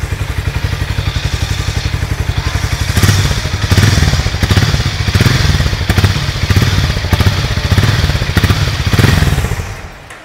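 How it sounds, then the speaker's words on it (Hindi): A 2024 Hero Mavrick 440cc single-cylinder motorcycle with a single exhaust is revved several times from idle, each loud, close blip swelling into a deep, throbbing roar before dropping back to a rapid thumping idle. "आप थोड़ा रेव करते हैं मोटरसाइकिल को"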